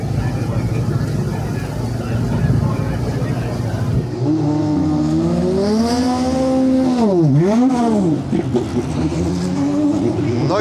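An Indy NXT race car rolls into the pit lane before a race, its engine droning loudly and then rising and falling in pitch as it revs close by, over steady crowd and track noise.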